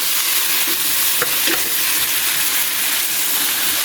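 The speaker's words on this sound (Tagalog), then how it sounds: "ilalagay na natin ang chicken na ating hinimay-himay" Shredded chicken for chicken pastil fries in a pan with a steady, dense sizzle, broken by a few brief scrapes as it is stirred.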